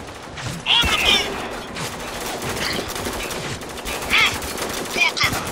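Firefight gunfire in the shooter Spec Ops The Line, sustained automatic bursts with sharp crackling reports and mechanical clatter, loud and close, while shouted voices call out over the shooting.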